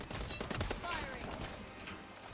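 Rapid bursts of gunfire crackle in a video game, a dense run of overlapping shots at moderate level mixed with other game noise, thinning out toward the end.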